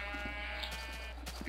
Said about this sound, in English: You've probably heard that sheep now regrow their wool and eat grass.